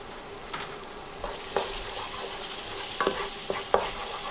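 Masala sizzles in oil in a pan while it is stirred and tossed, a soft steady fry punctuated by several sharp scraping and clattering strokes of the spoon, quiet and close with no speech.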